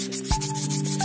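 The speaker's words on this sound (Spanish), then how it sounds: "con una telita de esmeril así no les va a perder ni nada, porque no va a sacar mucho material" Emery cloth rubbing against a brake caliper piston during a Chevy Nova caliper repair, a close, steady scratchy rub lasting about a second with no talking.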